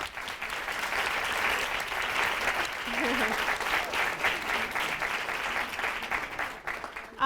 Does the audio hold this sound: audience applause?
yes